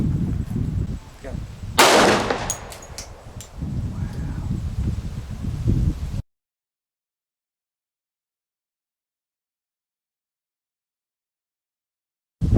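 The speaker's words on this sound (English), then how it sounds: "Going with the Rock Island Armory 45 ACP 1911 compact." A Rock Island Armory 45 ACP 1911 compact pistol fires frangible ammunition, one loud, sharp shot ringing out amid outdoor rustling and a few lighter clicks, followed by abrupt silence.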